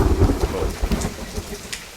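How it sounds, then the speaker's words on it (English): Heavy rain pours down in a forest survival game, a dense steady roar with low rumbling thunder underneath, loud and close. "Once it starts raining, it doesn't stop."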